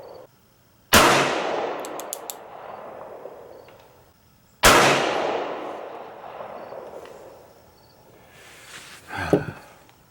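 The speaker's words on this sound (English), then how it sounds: "I am not shooting well today." Two sharp, loud gunshots from a Standard Mfg. SA single-action revolver at a shooting range, each ringing out with a long decaying echo, followed by quieter handling noise.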